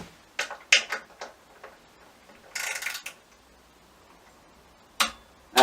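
A torque wrench reaching its set torque while tightening gives a few sharp, close clicks: scattered single ticks early on, a brief burst in the middle, and two more distinct clicks near the end, with quiet between.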